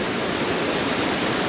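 Floodwater gushes out of a street drain during a flood, a steady, loud broadband rush like a torrent pouring without pause, with no voices over it.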